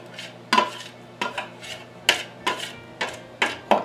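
Scraper or spatula scraping flour out of a big bowl for raw vegan sourdough bread, about eight short dry scrapes in an uneven rhythm, close and fairly quiet.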